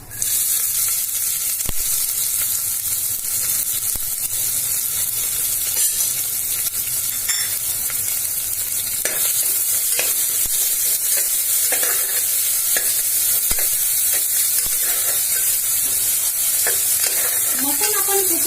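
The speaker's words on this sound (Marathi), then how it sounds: "आता जिरे मोहरी तडतडली चांगली हे बघा" Cumin and mustard seeds crackle in hot oil as the base for a Khandeshi mutton rassa, a loud continuous sizzle peppered with scattered small pops and clicks throughout.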